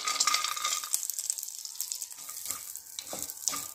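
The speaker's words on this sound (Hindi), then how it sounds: "अब हम थोड़ा सा घी डालते हैं, और उसमें हम ये कटी हुई नारियल को सेक लेते हैं।" Chopped coconut roasting in ghee in a pan, giving a close, crackling sizzle that fades into lighter popping, with occasional stirring and scraping sounds and no voices.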